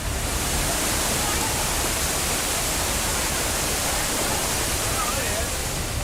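Floodwater rushes down river ghat steps in heavy rain, a loud, steady, unbroken roar of churning water filling the whole scene with no pause.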